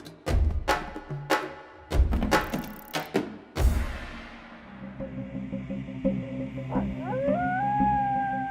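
Wolves howling in a nature setting: several sharp, loud bursts early on, then a long drawn-out howl rising and bending in pitch over a steady background bed, with no speech.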